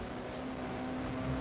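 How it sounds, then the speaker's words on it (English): A Castrol Toyota Auris S2000 rally car passes on a gravel stage of the 2009 Rally of South Africa, its engine a steady, fairly loud drone that swells slightly toward the end, with no talk over it. "when the Castrol Toyota Auris appeared in their rearview mirror, the production car champions pulled over to let Gemmell pass"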